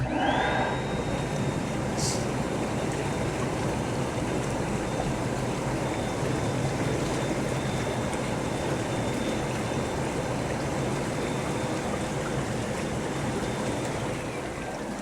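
Air bubbling through a tank of wash water agitates a batch of lettuce on a farm, making a steady, loud, churning rush with a roiling boil-like texture that holds constant throughout, with no talking.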